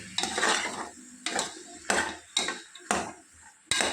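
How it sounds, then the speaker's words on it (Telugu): A spoon scrapes and stirs chopped vegetables, beans and potato pieces, in a metal pot for vegetable pulao, about six quick, close, loud strokes in a steady rhythm with brief pauses between them. "ఈ కూరగాయ ముక్కలన్నిటిని కూడా బాగా కలుపుకుందాము."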